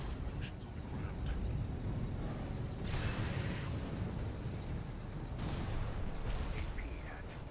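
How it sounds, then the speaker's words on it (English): Explosions on the ground in the mecha combat game Armored Core VI: a continuous dense roar of blasts and gunfire with sharper bursts layered in, loud and sustained, under game voice announcements. "Use your mobility in the air to get clear of explosions on the ground."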